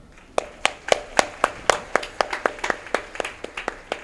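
Scattered hand clapping from an audience at a Rajasuya Yajna gathering: about fifteen crisp, fairly evenly spaced claps, close and distinct rather than a dense wash of applause, with no talk over them.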